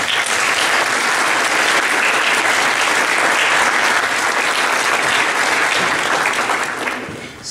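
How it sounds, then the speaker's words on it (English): Audience applauding at an interfaith community honoring event, loud sustained clapping from a sizable crowd that holds steady and fades out near the end. "let's give the AAIC a round of applause"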